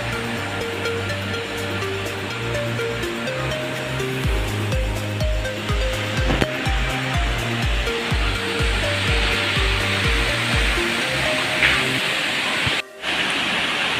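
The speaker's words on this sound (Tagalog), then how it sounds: "Malayo pa nga ay maririnig mo na ang malakas na bagsak ng tubig buhat sa Pinsal Falls." Loud, steady rush of falling water from Pinsal Falls, heard from a distance along the approach, a continuous broadband roar filling the whole clip with faint low tones mixed in.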